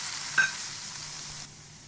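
Vegetables for Chinese-style egg noodle soup frying in a pan give a soft, steady sizzle with one brief clink near the start, and the sound drops quieter toward the end.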